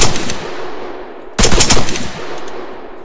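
Close, loud automatic gunfire in the video game ARMA 3: a rapid burst, a short pause, then another sharp volley with a lingering tail.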